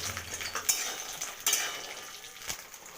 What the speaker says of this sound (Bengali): বড়িটা আমি তেলে ভেজে নেব।